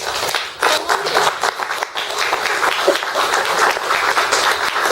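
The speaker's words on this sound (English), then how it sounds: "The panelists deserve a round of applause." An audience at a forum on the TPPA and investor-state dispute settlement claps for the panelists in a sustained round of applause, with some louder individual claps and brief voices in the mix.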